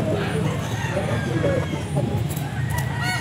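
Chickens at a busy pet market, with clucking and fowl calls mixed into crowd noise and people talking close by throughout.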